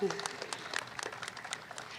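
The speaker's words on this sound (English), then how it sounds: "Yay, let's clap for that." A small outdoor group claps scattered, separate hand claps in Costa Mesa's first public park, Lions Park, fairly faint and uneven, with a voice briefly at the start.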